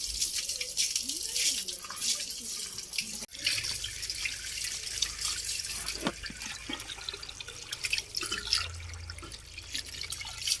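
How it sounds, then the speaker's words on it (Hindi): Cold water runs from a village tap without a motor pumping, a continuous splashing flow into a basin with scattered drips and clatters, fairly close and steady throughout, with no talk over it. "मोटर भी नहीं चलाई हुई, पानी बहुत ठंडा आ रहा है।"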